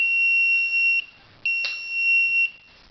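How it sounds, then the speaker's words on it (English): Old homemade Arduino house controller sounding its alarm: a loud, shrill electronic tone in sustained beeps separated by short gaps, with a click partway through and no voices. "And there you go, it's got an alarm going off"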